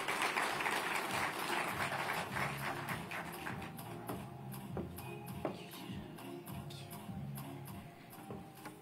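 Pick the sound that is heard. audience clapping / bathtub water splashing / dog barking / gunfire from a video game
audience clapping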